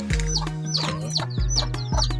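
A rooster in a backyard poultry farm crows and clucks nearby, several short repeated calls over a steady low hum.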